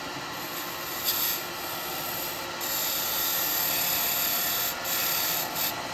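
A square carbide woodturning tool cutting a wooden lidded snowman box on a lathe, giving a steady, close rasping hiss with brief louder scraping bursts as the tool meets the spinning wood.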